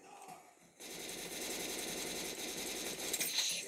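Rapid automatic gunfire in a shooter video game, a dense continuous rattle of shots starting abruptly and running loud and steady to the end.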